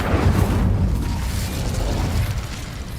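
Incendio fire spell cast in the video game Hogwarts Legacy, a dense, loud rumbling burst of flame that roars continuously and fades only slightly over a few seconds, no voices.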